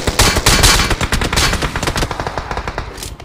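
Automatic gunfire in BGMI (Battlegrounds Mobile India), loud, close bursts of rapid shots running steadily for about three seconds with slightly fading later rounds, no talk.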